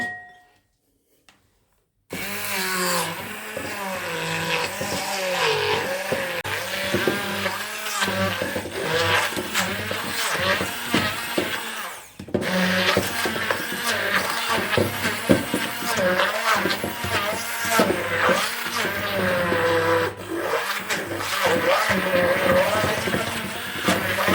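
A Silvercrest SSM 350 A1 hand blender runs steadily and loudly for most of the stretch after a short quiet start, with a brief dip midway before the motor drone resumes.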